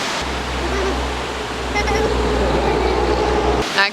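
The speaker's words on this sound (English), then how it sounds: "Maybe it's because we're eating in front of the waterfall." Steady broadband rush of a waterfall close by at a campsite in Alaska, continuous throughout with a low engine-like hum underneath and a brief clatter near the end.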